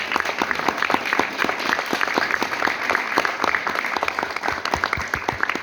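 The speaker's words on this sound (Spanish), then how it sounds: "yo le pido un fuerte aplauso" An audience at a talk breaks into strong applause, loud, dense clapping from many people with crisp individual claps, steady and close throughout.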